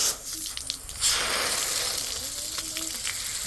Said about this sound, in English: I'm flushing the battery out with fresh water.